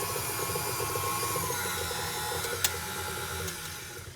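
An electric mixer churning cookie dough in a home kitchen, a steady close mechanical whir and rattle running throughout with one brief sharp knock near the end, no talking.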